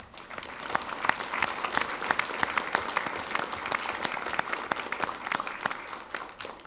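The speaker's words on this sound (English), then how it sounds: "let us give you a round of applause" Steady applause from a crowd of students at a school district board of education meeting, many hands clapping continuously at a lively, even level throughout.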